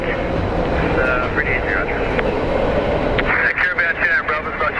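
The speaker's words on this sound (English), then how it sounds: "737 coming through." A Boeing 737 airliner passes at Phoenix Sky Harbor airport, a loud steady jet roar heard nearby with radio chatter and voices over it.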